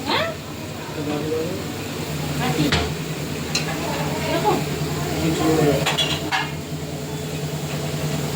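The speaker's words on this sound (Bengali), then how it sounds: "এখানে সব সবজিগুলো ফ্রাই করা হচ্ছে, রাতের রান্নার আয়োজন হচ্ছে।" Vegetables, cauliflower among them, frying in a pan for a night-time meal, a continuous sizzle with stirring scrapes and occasional clinks of utensils against the pan, while people talk over it throughout.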